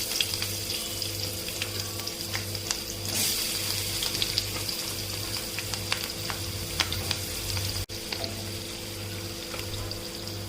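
Onions frying in hot oil with mustard seeds, black pepper and cumin for dhaba-style paneer masala, a steady close sizzle with faint clinks and scrapes of a utensil and a low hum underneath, no voices.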